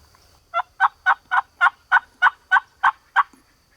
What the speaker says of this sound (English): I was getting answered by both hens and gobblers